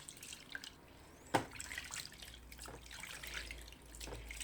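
Hands washed under running tap water: a faint, close trickle and splash with scattered drips and small wet knocks, quiet and without speech.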